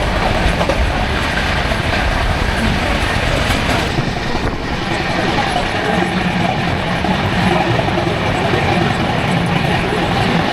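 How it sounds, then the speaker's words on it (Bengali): A Kanchanjungha Express passenger train on the Sealdah–Silchar route rumbles along steadily in heavy rain, a loud, continuous roar of wheels and carriage noise with faint clickety-clack throughout. "ট্রেন আমাদের এখন ছাড়ছে নিউ আলিপুরদুয়ার, 25 মিনিটস ডিলে।"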